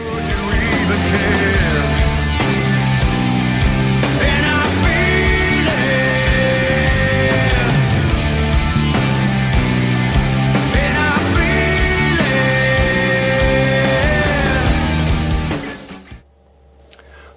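Electric guitar playing the pre-chorus chords of a song in an alternative rock style, a full sustained sequence of loud strummed chords that cuts off abruptly near the end.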